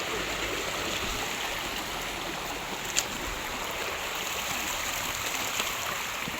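A shallow creek running low, a steady close burble and rush of water over stones, with one brief splash partway through and no voices.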